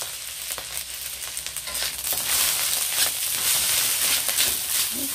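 Nasi goreng fries with sweet soy sauce in a pan as it is stirred, giving a continuous loud sizzle with scraping stir sounds running throughout.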